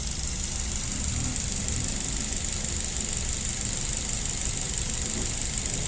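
A Daihatsu Gran Max or Toyota Avanza engine idling without throttle: a steady, close, even mechanical rumble with a constant high whine over it, unchanging and without voices.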